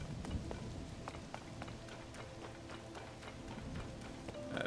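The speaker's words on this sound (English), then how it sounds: "Of course it's raining." Rain falls in The Legend of Zelda: Tears of the Kingdom as a steady, faint hiss with scattered light ticking drops, constant throughout and without talking.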